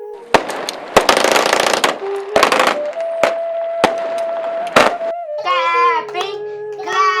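Celebratory aerial gunfire in Lahore, a string of sharp loud shots with bursts of rapid fire echoing, followed by shouting voices and a child crying out near the end.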